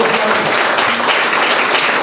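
Dense, loud applause from an audience at a museum guest speaker event, an even wash of hand claps filling the short stretch.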